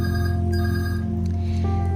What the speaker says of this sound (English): Sorry guys for the phone ringing, I cannot mute this.